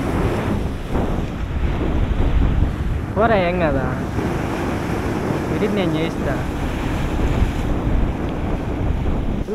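Big sea waves surge at Juvvaladinne fishing harbour, a constant loud roar of surf mixed with wind buffeting the microphone, while people talk over it throughout.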